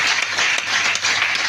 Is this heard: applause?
yes